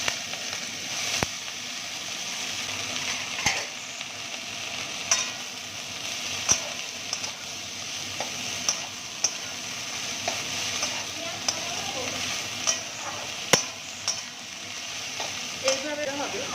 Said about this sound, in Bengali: তেলটা গরম হয়ে গেলে বাঁধাকপিটা আগে ভেজে নেব।